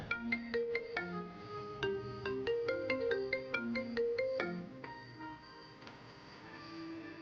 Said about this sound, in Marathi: आकर्ष, हा का फोन करतोय?